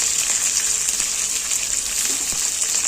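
Onion, green chilli, mint and curry leaves fry steadily in a pan, giving a continuous loud hiss and sizzle with faint crackles, heard alone.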